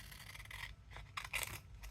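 Scissors snip through paper and decorative tags at a crafting desk, giving short crisp cuts and rustles that come close up and uneven, with no talk.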